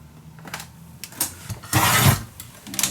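Paper is cut for a mini album using Ciao Bella Notre Vie papers, giving close, scratchy slicing and rustling sounds with one longer, louder stroke in the middle.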